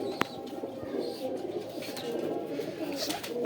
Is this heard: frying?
no